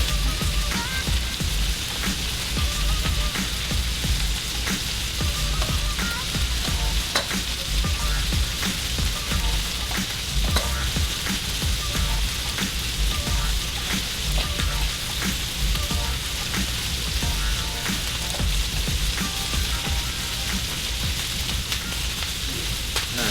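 Pork chops sizzle hard in a frying pan on medium-high heat, a dense, loud, unbroken hiss shot through with constant crackling pops that stays even throughout, with no voices.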